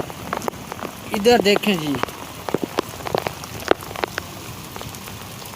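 Heavy rain mixed with hail drums on surfaces close by, with scattered sharp impacts over a steady patter, and someone speaks briefly in Hindi over it near the start.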